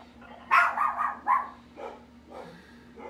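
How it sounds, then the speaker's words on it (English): Dogs barking indoors nearby, a short burst of several loud barks followed by softer yips and whimpers, over a low steady hum. "I'm so sorry about the dogs."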